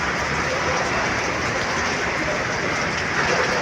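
Dense, roaring downpour of heavy rain with gusting wind during a typhoon, loud and unbroken throughout.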